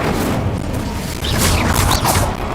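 Dull booming blasts of combat spells from the Hogwarts Legacy video game, several heavy impacts rolling into one another in a loud, continuous burst.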